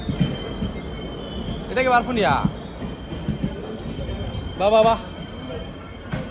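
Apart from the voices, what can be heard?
train arriving with wheels squealing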